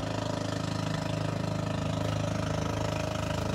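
A steady, rumbling boat engine drones continuously at an even pitch, chugging nearby at a seashore, with no voices.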